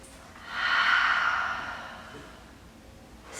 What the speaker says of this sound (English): Another full inhale. Open mouth exhale.